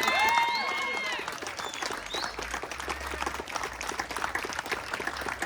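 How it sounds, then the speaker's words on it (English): A crowd at the ribbon cutting for the Connie Norman Transgender Empowerment Center in Hollywood applauds and cheers trans femmes, with whoops and a high shout at the start over sustained clapping. "Can we just give a round of applause for trans femmes?"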